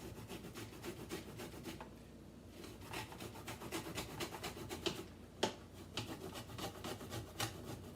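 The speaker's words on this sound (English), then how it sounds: "I'm going to put my ginger and grate it in my pot" Fresh peeled ginger root grated by hand into a pot, giving a steady scratchy rasp of repeated strokes, close and moderately loud, with no voices.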